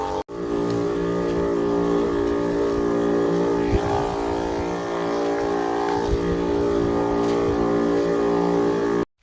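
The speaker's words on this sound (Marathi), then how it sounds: "मित्रांनो केलं बघा सुरू औषध मारायला." A motorized pesticide sprayer runs in an orchard with a steady, droning engine hum that holds the same level from start to finish, with no voices.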